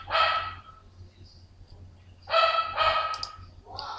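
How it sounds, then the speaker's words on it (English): A dog barks several times indoors, one bark at the start, then a quick pair and a softer yelp after a pause, heard moderately close over a low background hum. "my dog's barking"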